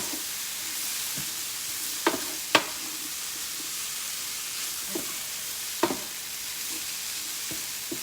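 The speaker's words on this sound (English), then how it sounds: "We need to caramelize all the veggies to get as much flavor as we can." Chopped vegetables and ground turkey caramelize in a pan with a constant soft sizzle, while a few scattered clicks and scrapes of stirring ring out close by; no one speaks.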